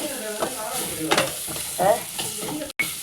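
Onions sautéing in a pan for an egg curry, stirred with repeated scraping strokes over a constant close sizzle, with a brief drop-out near the end.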